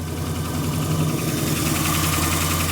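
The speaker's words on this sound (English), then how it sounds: "Give her just a tiny baby rev. Not bad. Got some kind of chambered muffler on it." A long-dormant Dodge Monaco engine with a chambered muffler runs steadily at a fast idle during a first start in years, giving a close, loud, continuous rumble with a slightly uneven throb and a faint knock.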